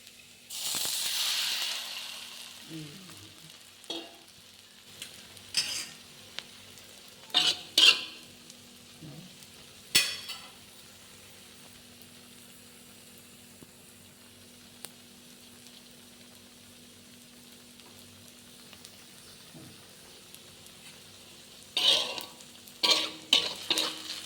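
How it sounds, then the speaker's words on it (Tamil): Beaten eggs added to a spiced masala in a pan, with a short sizzle at the start followed by scattered scraping stir strokes in irregular bursts over a faint steady hiss. "அடித்து வச்சுருக்க முட்டையை அதில் சேர்க்கணும்"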